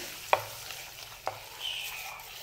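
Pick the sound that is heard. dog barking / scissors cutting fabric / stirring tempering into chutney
stirring tempering into chutney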